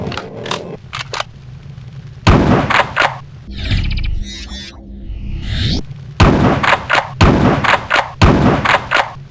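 A video game shotgun fires in loud, close blasts, several heavy booms with short sharp attacks, a mechanical reload clatter in the middle, then a quick run of further shots.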